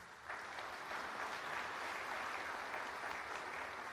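Audience at a panel on program design breaks into applause, clapping swelling in after a brief quiet moment and continuing evenly, moderately distant in a hall.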